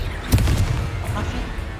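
A Confringo fire spell blast from Hogwarts Legacy bursts with a sharp boom early on, followed by a softer second thump and a rumbling tail of game ambience.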